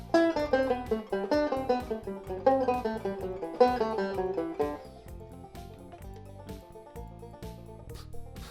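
A six-note single-string guitar exercise played in reverse, a brisk run of plucked notes that steps downward, then thins to quieter, sparser picking toward the end.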